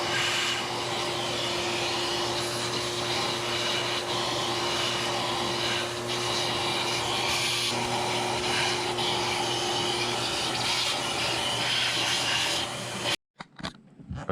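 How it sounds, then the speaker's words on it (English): A shop vac roars steadily and loudly for about thirteen seconds while clearing dirt and debris from the injector ports of a Jaguar XJR engine during a rebuild, then cuts off abruptly with a few brief clunks. "take a shop vac and a brush. Try to clean these out quick, get all the dirt and debris out of here"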